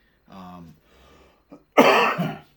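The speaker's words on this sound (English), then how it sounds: "not COVID, it's a cough" A voice murmurs softly, then a single loud, harsh cough bursts out near the end, close up.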